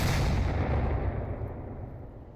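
Grenades burst in the VR shooter Onward during a competitive VRML match, a dense rumbling barrage of blasts with heavy low-end boom that fades slightly over a couple of seconds.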